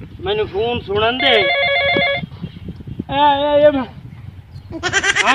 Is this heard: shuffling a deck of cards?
no